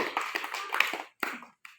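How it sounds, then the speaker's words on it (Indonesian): A group in a physical education class claps hands together in a brisk, dense burst, then pauses, adds a short second flurry and one last lone clap, fairly close and without talk. "itu tepuk tangan buat kita semuanya dulu"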